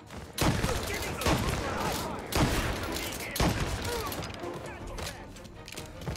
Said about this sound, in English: I shoot you, my friend.